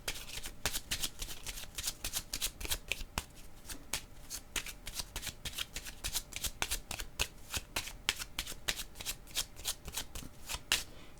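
A deck of Kepler oracle cards is shuffled over and over, giving a fast, steady run of crisp riffling flicks close up and alone.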